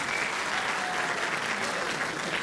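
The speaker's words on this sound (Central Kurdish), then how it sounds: "چەپڵەیەکی قایم بۆ بەڕێزیان کە تاکو ئێستا لەگەڵمان مایەوە" Audience at a university graduation ceremony clapping in sustained, dense applause that stays even and moderately distant from start to end.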